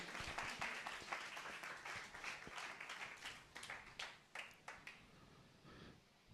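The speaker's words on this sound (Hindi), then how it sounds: "ताली बजाएंगे यीशु मसीह के लिए।" A church congregation claps for Jesus Christ, a faint, distant burst of applause that thins into scattered claps before fading.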